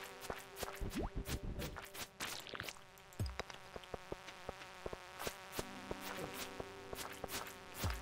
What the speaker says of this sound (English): I hate these bees